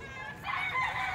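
A rooster crows at a Saturday chicken market at SM Baliwag, its call rising faint and somewhat distant partway through over a low background murmur.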